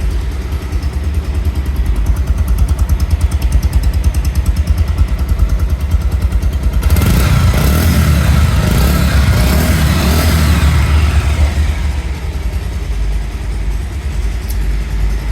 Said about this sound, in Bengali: পালসার গাড়ির কিন্তু একটা ইঞ্জিনের কিন্তু আলাদা একটা গুমগুমি শব্দ আছে, যে শব্দটা শুনলে কিন্তু খুবই ভালো লাগে